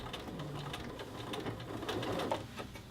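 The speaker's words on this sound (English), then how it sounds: "And I am just sewing" Sewing machine stitching a corner of a men's shirt collar band, a soft continuous mechanical whir with rapid faint ticking, steady and fairly quiet throughout.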